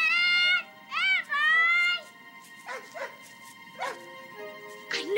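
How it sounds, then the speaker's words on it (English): Barking from a dog in a film ending, mixed with whimpering and excited yips. The sounds come in several bursts of differing length, with a high tonal voice or cry layered over them. "That bark, it is him!"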